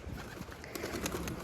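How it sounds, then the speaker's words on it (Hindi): Close, soft pigeon cooing rolls in short low bursts, with light fluttering and rustling around it and no talk. "देखो कबूतर आके बैठ गया यहाँ पे"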